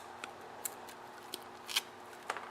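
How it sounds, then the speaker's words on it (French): Scissors snipping through the manual starter rope of a generator, a handful of quiet, sharp cutting clicks spread over a faint background. "Maintenant, je vais la couper."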